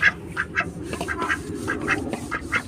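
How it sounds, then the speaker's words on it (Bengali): Ducks feeding on soft banana plant pieces quack repeatedly in short, nasal bursts, roughly a dozen calls in an uneven rhythm, close and clear over a low background murmur. "তো চলেন দেখি হাঁস খায় কিনা"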